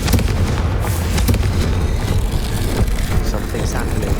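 A Confringo blast spell explodes in Hogwarts Legacy, a dense rumbling burst of booms and crackling that fills the whole clip, loud and close, with game voices talking over it.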